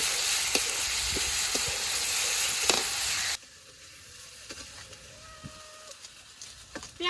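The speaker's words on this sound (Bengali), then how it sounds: "রসুন খুব ভালোভাবে ভেজে নিই" Garlic sizzles loudly in a hot pan in a village kitchen for about three seconds, then drops to a faint background crackle while distant farm animals and a bird-like call come through.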